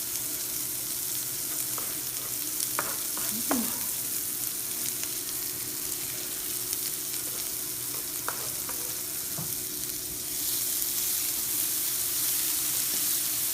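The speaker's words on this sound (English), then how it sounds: "we're adding the shallots to the bacon grease. You hear that sizzle in here." Shallots sizzle and crackle in hot bacon grease, a loud steady frying hiss lasting throughout, with a few brief clinks of stirring.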